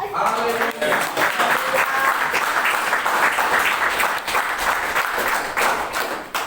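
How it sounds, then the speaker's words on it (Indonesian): Sustained applause from a congregation at a Christian apostolic training session, dense clapping that stays loud and steady throughout with no pause. "Beri tepuk tangan."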